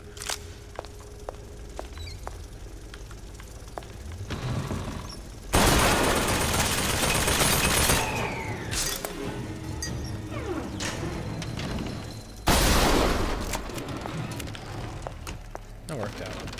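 Shotgun blasts in Bioshock Infinite: Burial at Sea Episode 2, with two heavy, booming shots several seconds apart over quieter in-game footsteps and ambient clatter.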